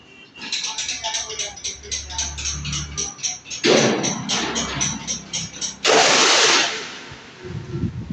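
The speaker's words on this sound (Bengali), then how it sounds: "এটা হচ্ছে ভুট্টা মারাই মেশিন" A maize sheller (corn threshing) machine in a workshop runs with rapid, regular mechanical pulsing, then louder grinding bursts, while someone talks over it nearby.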